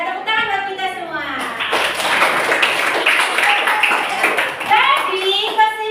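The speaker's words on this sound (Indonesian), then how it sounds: "ya tepuk tangan buat kita semua" Children and a teacher applaud together in a grade 5 Islamic religious education class, a burst of clapping lasting a few seconds, with a voice speaking just before and after it.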